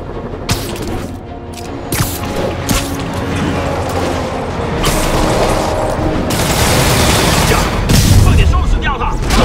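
Enemy gunfire in Marvel's Spider-Man on PS4: dense, continuous bursts of shots and booms roll on for the whole stretch, growing louder toward the end, with other game sounds mixed in.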